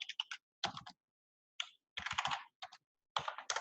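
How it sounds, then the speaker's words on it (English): Quick bursts of typing on a computer keyboard entering a Google search, clustered clicky keystrokes separated by short pauses, close and alone with no talking. "Let me just go to Google real quick and type in"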